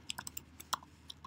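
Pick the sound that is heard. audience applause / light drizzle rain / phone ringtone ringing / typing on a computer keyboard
typing on a computer keyboard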